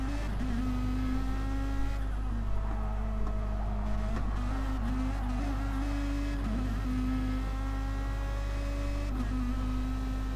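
Raybrig NSX race car lapping the Red Bull Ring in a racing video game, a steady close engine drone with rising and falling revs through gear changes.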